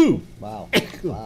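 A single sharp sneeze bursts out between short spoken exclamations, close to the microphone in a talk-radio setting.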